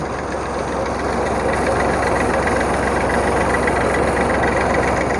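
A tractor-driven tubewell boring machine runs with a loud, steady mechanical drone and constant rattle while drilling into soil for water, heard close and unbroken.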